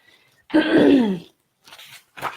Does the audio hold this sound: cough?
yes